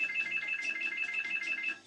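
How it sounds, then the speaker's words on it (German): Repeated electronic telephone ring from The Sims 2 life-simulation game, a steady rapid warbling tone pulsing in regular bursts, loud and continuous without speech. "Jetzt schon wieder Telefon hier."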